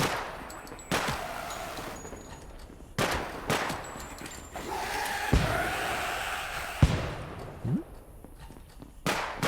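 Sharp gunshots from a video game rifle, fired singly and in short bursts with irregular spacing, loud and close over a low background rumble.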